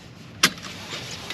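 A luxury car being switched off makes a single sharp click in a quiet interior, followed by a low hum.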